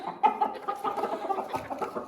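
A rooster sitting in a winter hen house gives a steady string of close, throaty clucks and low mutterings, one call running into the next.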